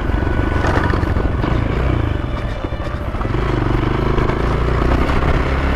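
A Hero Xpulse 200 motorcycle is ridden through city streets, giving a steady, loud run of engine and road noise that barely dips over a few seconds.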